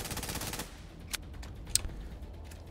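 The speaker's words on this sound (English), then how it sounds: "Perfect use of a Tommy gun." Tommy gun fire in The Division 2: Warlords of New York, a rapid automatic burst up front that cuts off, followed by a few isolated sharp cracks against a quiet background.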